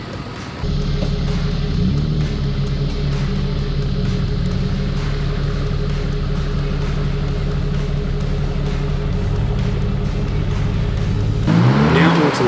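A Holden Colorado 4WD with independent front suspension and leaf-spring rear, unlocked, working off-road at Pine Creek near Bundaberg, its engine droning loudly and continuously with rising revs and strain, climbing sharply near the end.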